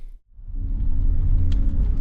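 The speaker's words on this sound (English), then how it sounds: "The car does not sound happy. It's burning a lot of oil." A Toyota AE86 rally car with a blown motor, burning a lot of oil, runs rough, its engine rumbling low and heavy after a brief dip, close and steady.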